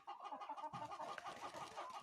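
Chickens and a rooster clucking close by on a Ukrainian farm, a steady run of overlapping clucks filling the whole stretch with no talking.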